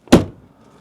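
A Saab 900 Turbo 16S door swings shut with one solid, close thud and a short, dull decay, followed by quiet.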